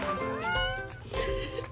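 A cat meows repeatedly indoors in short rising and falling calls, begging to be let outside into the snow; the meows are close and moderately loud with faint room noise.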